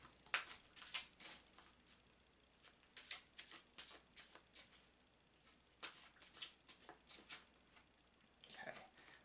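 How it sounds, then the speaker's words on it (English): Oracle cards being shuffled by hand, a run of soft, close riffling and sliding bursts in an uneven rhythm, faint and quiet throughout. "I'm shuffling the cards in a way that you can clearly see that I'm shuffling."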